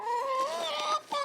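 Chickens cluck and call at a backyard coop while feed is poured in, a close, steady run of clucks with rising squawks, loud and continuous through the moment.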